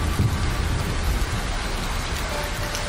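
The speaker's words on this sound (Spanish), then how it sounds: "Vámonos de aquí, está lloviendo muy fuerte." Heavy rain pouring down outdoors in rural Poland, a loud, dense, continuous hiss of drops drumming on surfaces with a low rumble underneath and no voices.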